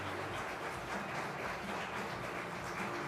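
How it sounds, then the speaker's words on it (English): Faint, distant applause from an audience at the inauguration of an academic year, a steady wash of clapping that holds evenly throughout without pauses. "A big round of applause"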